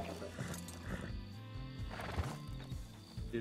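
A horse neighs in loud, repeated whinnies over a steady background rumble, with some hoof clip-clop mixed in, close and continuous throughout.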